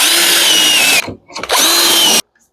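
A power drill boring dowel holes in wood through a Milescraft Jointmate jig: two loud, close bursts of steady high motor whine separated by a short pause, then an abrupt stop.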